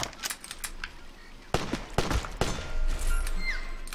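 Rapid gunfire in the video game LEGO Jurassic World, a burst of sharp, fairly quiet shots with a few louder cracks and a rising clatter near the end.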